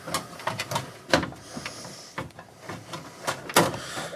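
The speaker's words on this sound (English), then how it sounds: "you get your chassis lid and you put it back on the unit" A metal chassis lid is fitted back onto a security DVR unit with a string of sharp metallic clacks, scrapes and rattles. The irregular knocks come close together and close up, with no voice.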